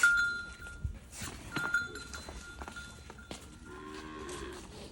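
Buffaloes on a farm low and moo several times, fairly faint, with some rustling and farmyard shuffling in between the calls.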